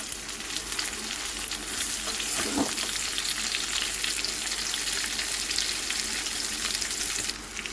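Pumpkin and potato pieces fry in a pan with turmeric powder and ginger paste, making a steady, dense sizzle with occasional stirring scrapes throughout, close and even, without any voices.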